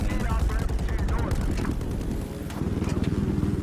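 Heavy continuous gunfire from a minigun and a 25mm cannon blasts nonstop in a vehicle combat video game, a dense loud rattle with a brief dip before the rapid firing resumes.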